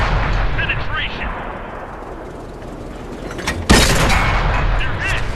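A tank cannon fires and a shell penetrates in World of Tanks on a Stug III Ausf. B German tank destroyer: loud rumbling engine and battle ambience, then a sudden heavy boom that keeps ringing, with faint clanks and a voice briefly audible.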